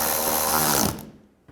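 A ratchet clicks rapidly and evenly as bolts on a BMW X3 thermostat housing are tightened, close and crisp for about a second before stopping.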